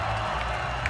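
A packed theater crowd at a comedy show cheers and applauds as a steady, loud wash of voices and clapping with no clear breaks.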